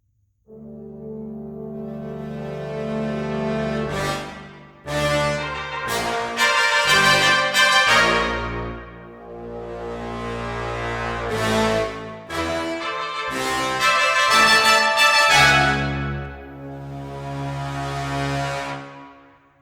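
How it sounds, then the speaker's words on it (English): A mocked-up, EQ-processed brass section plays sustained, bold chords in several phrases with short pauses between, loud and punchy, with no voices. "Here's the brass section with all that EQ applied to it."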